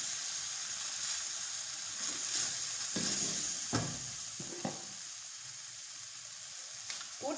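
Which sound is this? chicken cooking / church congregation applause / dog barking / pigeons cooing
chicken cooking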